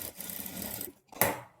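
A sewing machine runs in short bursts while stitching darts on a blouse, a steady close mechanical whir that stops, pauses, then starts again briefly.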